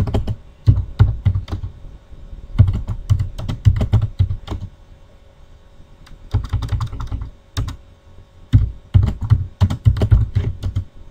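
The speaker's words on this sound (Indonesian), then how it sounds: "Ini kita tekan Enter 2 kali biar ada jaraknya." Keys pressed on a computer keyboard while formatting a mail-merge letter, clustered bursts of close, crisp clicks with short pauses between runs of typing.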